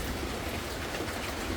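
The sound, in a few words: rain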